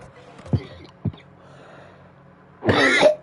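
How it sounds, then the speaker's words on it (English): Dry-throated coughing from a person playing Crash Bandicoot: two short separate coughs, then a louder, longer cough and throat clearing close to the microphone. "My throat was getting really dry, and I had to cough."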